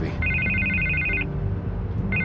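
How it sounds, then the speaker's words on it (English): Telephone ringing in the Telltale Batman video game, two bursts of a shrill electronic trill over a low background hum and room tone, fairly close and moderately loud. "I can't get the phone to stop ringing."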